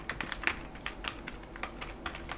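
Rapid clicking of keys on a computer keyboard, steady and close, with light irregular taps and no voices.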